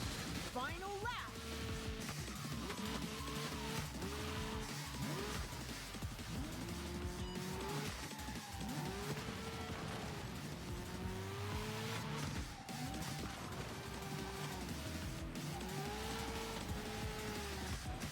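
Race cars skidding through a pass in a racing video game, engines whining and shifting pitch over a constant roar with squealing tires, loud and continuous, with music or game sounds layered underneath.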